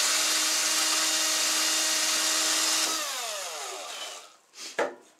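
Power drill boring 8 mm holes into a wheel, a loud steady high whine that winds down after about three seconds, followed by a couple of short knocks.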